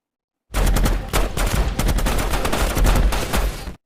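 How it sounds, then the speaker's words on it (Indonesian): Dense gunfire and bombardment from the 2003 war film Tears of the Sun, a continuous loud barrage of overlapping shots and blasts that starts abruptly and rattles on for several seconds without speech. "Kemudian mereka pun langsung dibombardir oleh para pemberontak. Dan peperangan pun dimulai."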